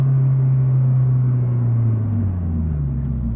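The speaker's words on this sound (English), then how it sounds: "we're actually going to stop fairly aggressively, almost like we're at the racetrack, and listen to how it downshifts for me" An automatic Toyota 86/Subaru BRZ brakes hard as the transmission downshifts on its own, a steady deep engine drone sliding lower in pitch over a few seconds, loud and close with no talk.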